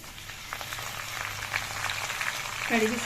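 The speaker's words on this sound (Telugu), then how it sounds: "మనకి పోపు వేగుతుందండి" Oil sizzles and crackles steadily in a pan as tempering spices fry for gongura pickle, with small pops scattered throughout and a short tonal clink near the end.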